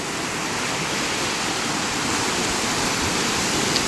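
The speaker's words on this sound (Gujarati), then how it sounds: "આ છે આપણા ગામનું તળાવ અને વડિયાના માર્ગેથી આટલું પાણી આવે છે" Monsoon rainwater from the first rains pours into a village pond in Chuda, Surendranagar, Gujarat, making a dense, continuous, loud rush that stays steady with no voices.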